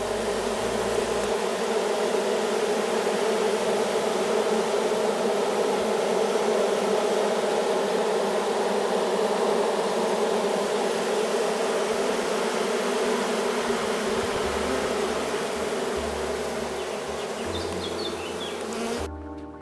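A small honeybee swarm, recently strengthened with bees shaken from a queenless hive, buzzes steadily and densely around its hive, a loud continuous hum that holds for the whole stretch with no voices.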